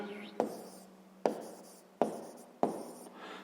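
Handwriting during a sixth-grade maths exercise: four distinct pen or pencil strokes on paper, each starting with a sharp scratch that fades, close and fairly quiet, with no talk over them.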